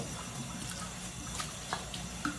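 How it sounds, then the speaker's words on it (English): Water runs and splashes while a pan is rinsed out in a sink, a soft steady trickle with occasional brief clinks and splashes, fairly quiet and without talking. "Get this pan cleaned out, or at the very, very least rinsed out."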